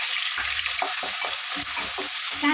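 Sliced onion and green chilies fry in a pan for Andhra-style mutton liver curry, giving a loud continuous sizzle close by, broken by brisk stirring scrapes.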